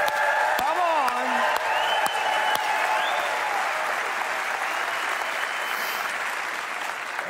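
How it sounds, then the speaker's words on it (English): Steady applause from a large congregation at an Easter volunteer church service, loud and sustained throughout, with a few brief voices and whistle-like cheers rising over the clapping early on. "let them hear your applause, huh?"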